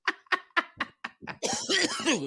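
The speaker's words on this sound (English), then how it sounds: "I'm about to cough." A burst of six sharp, rhythmic coughs close to the microphone, followed by a strained voice and wheezy laughter-like sounds.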